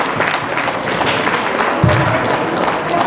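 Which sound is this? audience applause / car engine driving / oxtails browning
audience applause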